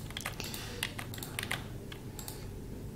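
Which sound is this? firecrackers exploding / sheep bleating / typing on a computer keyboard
typing on a computer keyboard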